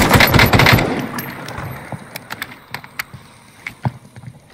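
Gunfire in the Warzone video game, a dense burst of rapid shots at first, then scattered single sharp shots spaced out over the rest of the clip.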